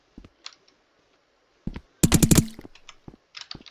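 A rapid burst of gunfire from a gun shooting a ragdoll in the video game Rec Room, a loud rattling volley of about half a second among scattered soft clicks and taps.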